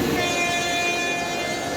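Train on the Giddalur–Nandyal line through the Nallamala hills, about to enter the Peddaboggada tunnel: a steady, loud rolling rumble with a faint high tonal whine, continuous and alone without voices.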